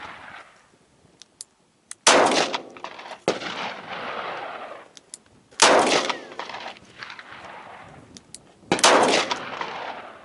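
Three sharp, loud gunshots from a Smith & Wesson M&P Bodyguard .38 Special revolver firing 125 grain handloads, spaced a few seconds apart outdoors, each with a ringing tail that fades between shots.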